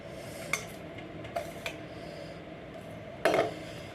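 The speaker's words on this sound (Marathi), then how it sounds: "मी एका बाउलमध्ये काढून घेते" A spoon scrapes a sweet mixture from a pan into a bowl, with a few sharp metal clinks and a louder clattering scrape near the end, close by and without talk.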